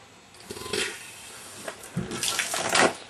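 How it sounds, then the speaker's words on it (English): A new fuel pump for a 1990s fourth-generation Camaro is tested with no hose attached and sprays liquid. Short bursts of splashing and gushing rise and fall over a few seconds. "Pumps out quite a bit more than the stock one did by a long."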